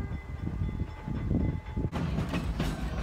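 An East Broad Top Railroad train rumbles past near Colgate Grove as a heavy, continuous low roar with rhythmic wheel clatter, close and loud, turning brighter and noisier as the cars go by.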